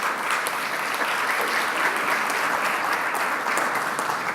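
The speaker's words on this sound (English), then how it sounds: "That was a round of applause for Matthew." Audience applause at the end of a talk at a travel and hospitality customer-experience conference: steady, dense clapping from a sizable crowd that holds evenly for several seconds with no voices over it.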